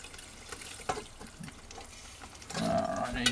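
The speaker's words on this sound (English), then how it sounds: "and then pour it out. Use a metal colander, as I said earlier." Hot rendered lard poured through a metal colander, a faint liquid trickle and splash that builds toward the end, with scattered clinks.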